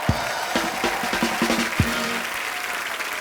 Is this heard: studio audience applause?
yes